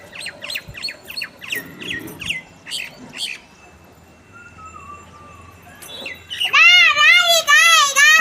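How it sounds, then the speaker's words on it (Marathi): Birds chirp and squawk close by during the rainy season, a loud warbling burst of calls arriving near the end after a child's chatter and a quiet pause. "आणि या पक्ष्यांचा किलबिलाट चालूच होता"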